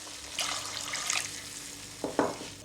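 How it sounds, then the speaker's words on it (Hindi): Water is poured into spicy mutton (balti gosht) cooking in a pot, giving sizzling hisses and stirring noises in short bursts, with a sharper splash and sizzle near the end. "2 कप पानी डालो"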